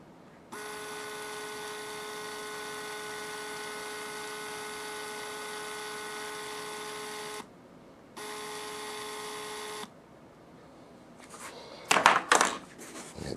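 Small Rollease battery-powered motor on a window shade running with a steady, fairly quiet electric hum in two stretches separated by a short pause, followed by some brief handling clatter.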